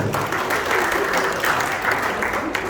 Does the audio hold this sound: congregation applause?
yes